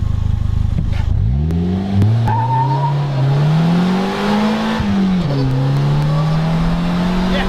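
A Polaris Slingshot three-wheeler accelerating hard from low speed, its engine note sweeping upward through the gears with short dips at each shift, loud and close throughout, with wind and road noise underneath.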